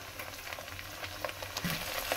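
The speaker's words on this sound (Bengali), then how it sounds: "এবারে আমি এর মধ্যে দিয়ে দেব রসুন বাটা" Garlic paste added to onions and ginger paste frying in a pan, a steady close crackling sizzle with a few light stirring sounds.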